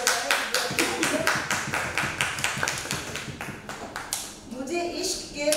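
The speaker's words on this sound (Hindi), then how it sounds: "एक बार जोरदार तालियों से स्वागत किया जाए" At a literary book-reading event, a small audience gives rhythmic applause to welcome an author to the stage. The claps come as a steady, fairly close run of sharp hits that thins out near the end.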